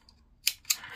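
Two quick, crisp snips of scissors cutting knitting yarn close by after finishing a baby bootie seam, each a short sharp bright click with a soft tail, in a quiet room with no voices.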